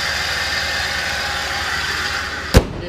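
A 2011 Jeep Liberty with the 3.7-liter V6 idling after a cold start, a steady close engine drone with one sharp knock or click near the end.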